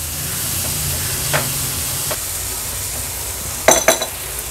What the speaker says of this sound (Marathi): टोमॅटो पण मसाल्यासोबतच छान मिक्स करून घ्यायचं आहे